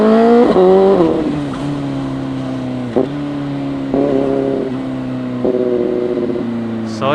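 CFMOTO 750SRS motorcycle engine pulling through repeated gear changes, each short rev dip followed by a steady climbing drone, close and loud with wind noise and no talk.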